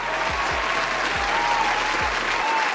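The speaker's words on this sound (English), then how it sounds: "Round of applause" Dense, steady applause from a crowd, loud and continuous throughout, with a few low thumps underneath.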